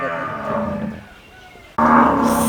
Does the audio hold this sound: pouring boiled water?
no